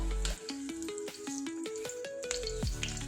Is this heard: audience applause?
no